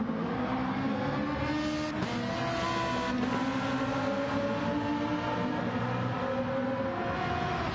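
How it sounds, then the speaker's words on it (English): A Lamborghini GT1 race car engine roars in a racing video game at the Nürburgring, loud and continuous with a droning tone that shifts pitch through gear changes and cornering. "that Lamborghini is so quick through the mid-speed corners"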